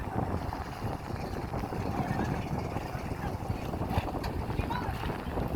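A bangka boat chugs across open water alongside divers, wind buffeting the microphone and waves slapping steadily, with faint voices in the background.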